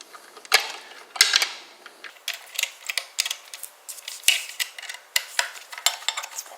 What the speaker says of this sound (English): Take your bolt and put it back in.